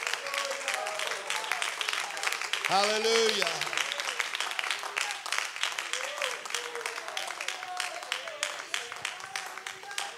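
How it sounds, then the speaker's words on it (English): A church congregation claps in praise during a worship service, a continuous rattle of many hands that runs throughout, with a voice calling out over the clapping partway through. "Give the Lord a clap offering of praise"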